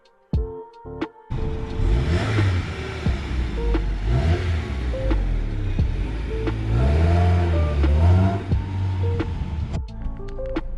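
An old Honda Prelude pulls away and accelerates, its engine note climbing through several rising sweeps with gear changes between them, close and fairly loud, starting and ending with brief quieter moments.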